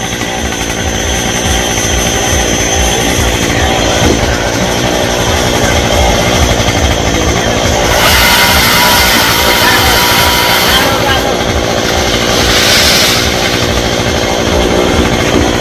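A chainsaw runs continuously at close range, cutting a rope-tied branch high in a golden oak tree, its engine surging to harsher bursts of revving midway and again near the end.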